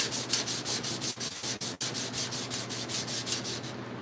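Steady, close sanding on the door of a 1968 Chevrolet C10 pickup during final bodywork prep, a continuous abrasive rubbing with quick rhythmic back-and-forth strokes and no talk.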